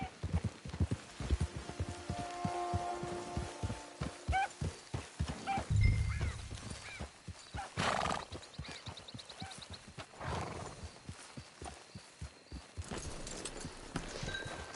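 A horse in the Red Dead Online video game clip-clops along at a steady walking gait, its hoofbeats close and regular beneath a busy game soundscape with a brief snort or whinny midway.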